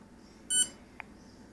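A single short electronic beep from an Emax BLHeli 20A electronic speed controller rings out, followed by a faint click in a quiet room.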